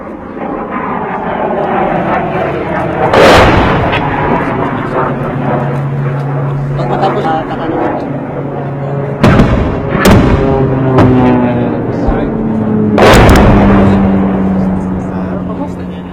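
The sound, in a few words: mortar fire in Marawi battle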